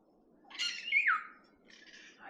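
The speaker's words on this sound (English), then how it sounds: "I could hear the kākā, the parrots, calling." Harsh, rasping kākā parrot squawks with a descending screech, followed by a fainter call, carrying from some distance in an open outdoor space in New Zealand.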